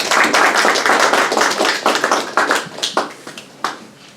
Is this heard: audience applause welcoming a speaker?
yes